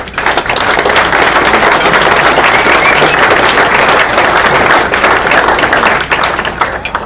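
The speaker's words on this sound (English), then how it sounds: "So a round of applause again for Doug." Sustained applause at a university orthopaedics resident graduation dinner, a crowd clapping loudly and densely for several seconds before tapering off.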